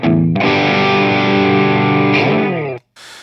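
A heavily distorted electric guitar chord through a Boss DS-2 Turbo Distortion pedal rings out loud and sustained for over two seconds, then cuts off abruptly, followed by faint hiss.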